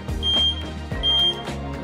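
A high, thin electronic buzzer on an Eagle weighing scale set point indicator beeps in short repeated bursts, two or three times, over a low hum of machinery.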